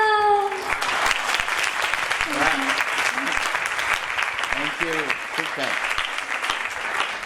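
An audience claps steadily and loudly throughout, a dense wash of applause with a few voices briefly rising above it.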